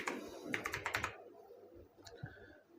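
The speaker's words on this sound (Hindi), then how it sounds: "तो यहाँ से मैं हिंदी में टाइप कर देता हूँ।" Quick burst of keystrokes on a computer keyboard while Hindi text is entered into an e-Mitra caste certificate application form, followed by a pause and a couple of isolated key taps, close and fairly quiet.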